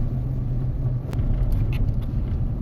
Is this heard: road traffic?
yes